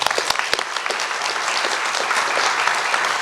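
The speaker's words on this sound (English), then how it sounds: "let's give her a big round of applause" An audience at a community oral presentation event gives a round of applause, dense steady clapping from many hands that starts with a few sharp close claps and holds for the whole stretch.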